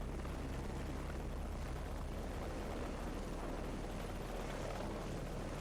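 A military transport helicopter in the combat flight game Heliborne holds a steady, loud, dense rotor and engine roar that stays constant throughout, with no talking.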